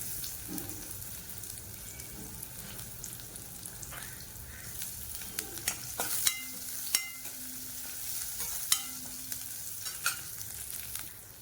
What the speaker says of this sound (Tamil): இப்போ வெங்காயம் பூண்டு எல்லாம் பொரிஞ்சிடுச்சு.